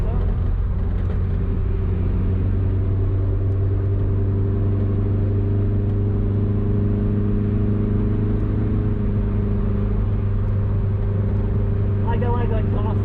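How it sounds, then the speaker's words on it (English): A 1969 Opel GT engine with a full performance exhaust idles and rumbles steadily with a low, even tone, close by, with brief voices near the end. "I like the exhaust a lot better."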